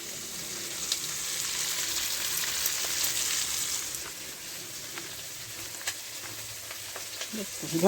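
Spinach and chopped radish added to small fried Sundarbans crabs in a pan give a steady, close sizzle and crackle, easing slightly halfway through, with a few stirring scrapes and a knock of the utensil near the end.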